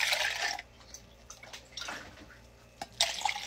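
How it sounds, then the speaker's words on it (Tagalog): Hot water is poured onto lemon peel in a cup, with splashy bursts of pouring, a pause, small drips, then another pour close by. "Tapos, lalagyan ko siya ng mainit na tubig para maging warm siya."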